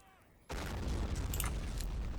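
Battle gunfire in the World War II strategy game Men of War: Condemned Heroes, a dense, loud fusillade of rifle and machine-gun shots with deep booms that erupts abruptly after a brief quieter moment and continues steadily.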